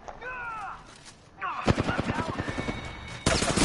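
Rapid bursts of gunfire in the video game Apex Legends, a quick string of sharp shots following a short stretch of talk and game sounds, ending in another loud burst.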